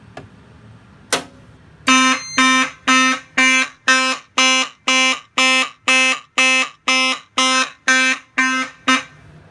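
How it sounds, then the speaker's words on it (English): After a single sharp click, a fire alarm system blares during a smoke detector test in a rapid, regular series of loud pulsing horn blasts, about fourteen in a row. "We're going to test the smoke detector this time."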